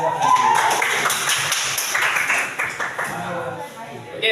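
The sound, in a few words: classroom applause, clapping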